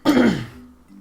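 A single sharp, loud throat-clearing cough bursts out close up, then trails off into a rough, fading rasp.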